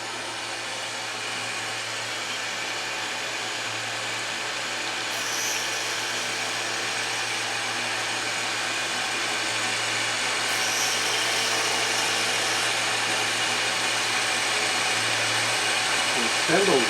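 A pantograph spindle turning a 1/8 inch carbide cutter at 6,200 RPM while a knife pattern is cut, giving off a steady, continuous high whine that swells slightly louder toward the end.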